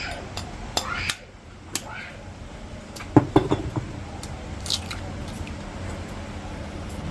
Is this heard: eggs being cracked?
yes